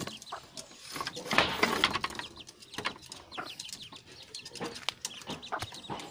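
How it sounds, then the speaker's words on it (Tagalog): A chicken of a bred line, kept near a trap setup, clucks and calls in a busy stretch of sharp, irregular bird sounds with a louder burst early on, heard close with no talking. "Yan ang lahi ng ah, manok yung huli natin."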